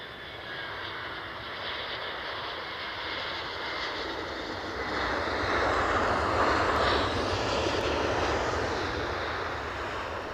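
An EasyJet airliner from Derry roars steadily at Edinburgh airport, a broad continuous jet engine rumble that swells louder midway through as the plane passes close by, with no talking.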